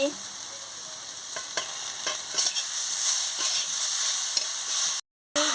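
Spices and chopped vegetables sauté steadily in a hot pan with a constant bright sizzle, punctuated by scraping stirs of a spatula, ending with a brief cut to silence.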